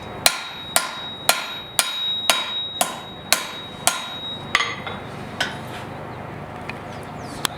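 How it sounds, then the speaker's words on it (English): Hammer blows ring out on a forged blade being cleaned of hammer marks, about a dozen sharp metallic strikes in a steady rhythm that slows and softens toward the end, close and alone with no voices. "I'm trying to clean up some of them hammer marks on the back."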